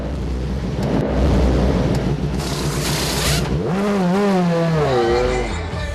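An Audi race car reaching speeds of up to 270 km/h gives a loud, steady roar that builds into a sweeping engine note, rising and falling twice before easing off.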